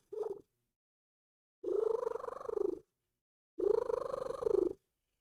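A domestic cat indoors purring in three separate bursts, the first short and the next two longer with gaps between, close and fairly quiet.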